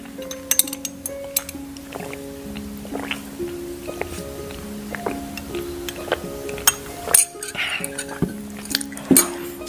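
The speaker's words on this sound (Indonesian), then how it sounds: "Aku haus teman-teman, jadi sekarang aku mau minum terlebih dahulu." Glass and dishes clink repeatedly during a fried rice mukbang, with sharp close clinks, small taps and light liquid sounds scattered throughout and no talking.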